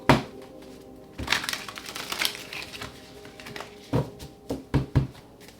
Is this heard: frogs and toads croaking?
no